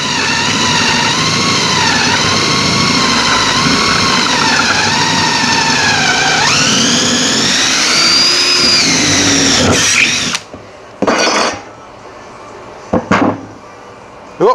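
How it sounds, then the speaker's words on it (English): A power drill bores a counterbore into a wood block, whining loudly and steadily with its pitch shifting under load for about ten seconds, then it stops and a few brief knocks and handling sounds follow. "take your speed square, line it up, and commence the drilling"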